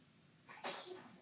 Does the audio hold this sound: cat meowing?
no